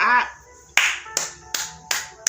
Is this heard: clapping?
yes